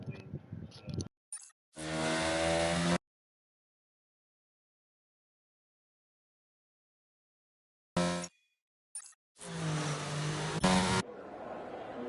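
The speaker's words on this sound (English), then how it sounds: "the cars are very very loud" Race cars roaring at a racing event during qualifying, loud engine blasts heard in two bursts separated by a long stretch of silence, with short broken fragments around them.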